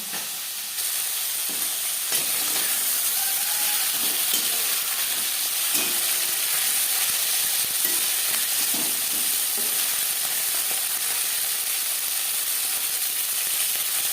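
Pakal (eel-like bam) fish fries in oil in a pan, a steady crackling sizzle with occasional scrapes and clinks from stirring, no talk.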